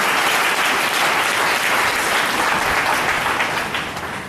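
A church congregation applauds loudly for Jesus: dense, sustained clapping close and full throughout, easing slightly at the end.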